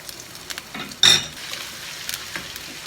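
Ginger dropped into hot oil with lightly browned onions gives a sudden sharp sizzle burst, followed by a faint crackle and light clinks of a spoon against the pan.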